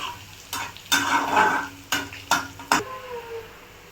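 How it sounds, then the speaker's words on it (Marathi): Crushed garlic sizzles in hot oil in a pan for a fenugreek leaf curry, with several sharp spoon-on-pan clanks over a steady frying hiss. "तर हे छान असं फ्राय करून घेते."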